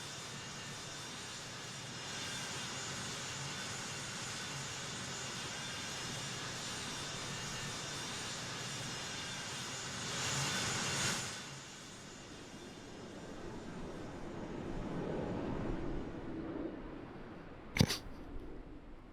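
A simulated aircraft taking off from a runway in a flight game, a steady faint engine drone building in a swell midway, then thinning, with a sharp click near the end.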